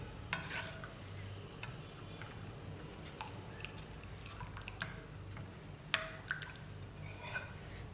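Rava dosa batter being stirred as about two and a half to three cups of water are mixed in, giving soft wet swishes and scattered spoon clinks at close range, with no one talking.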